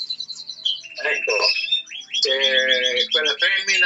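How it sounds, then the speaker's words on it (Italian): Pet canaries sing close by in a continuous, bright warble of rapid trills, chirps and rolling phrases, loud and unbroken throughout. "Tu intanto vedi i miei canarini, li senti?"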